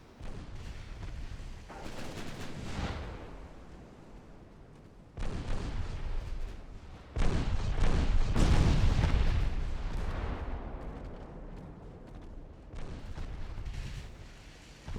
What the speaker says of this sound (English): this thing is firing semi-AP super heavy shells